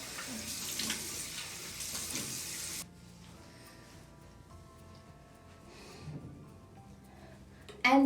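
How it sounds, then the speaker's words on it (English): A tap runs into a sink for a few seconds of splashing while someone washes their face with plain water, then the flow stops, leaving faint quiet handling noises and a brief clatter at the end. "now I am just going to wash it off with with normal plain water."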